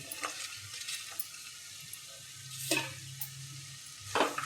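Green bean pods sautéing in a pan with crushed peanuts, a soft steady sizzle under occasional stirring scrapes and light clinks, quiet and close.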